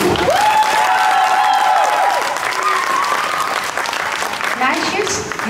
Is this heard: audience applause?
yes